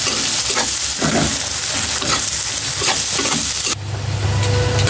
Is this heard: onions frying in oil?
yes